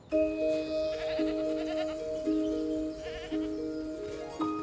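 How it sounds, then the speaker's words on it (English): Feral goats bleat repeatedly in a forest, wavering calls that overlap one another, with a faint clinking like a bell in the background. "This is a herd of feral goats"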